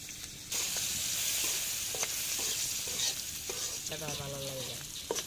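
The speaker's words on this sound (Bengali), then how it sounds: "মরিচ পুড়ে দিতেছে" Chili peppers roast in a hot pan on a stove, giving a steady close sizzle with occasional stirring scrapes and light crackles throughout.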